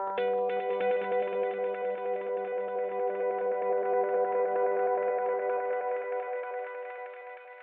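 A dense, sustained electronic tone rings out with a long echoing tail, gritty and distorted, slowly fading toward the end with no voices.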